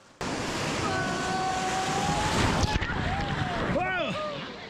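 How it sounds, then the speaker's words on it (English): Whitewater rushes loud and close while rafting the wild, undammed Yellowstone River, with wind buffeting the microphone and voices whooping and calling out over the churning water. "Rafting the Yellowstone."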